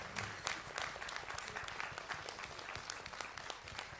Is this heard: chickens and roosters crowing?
no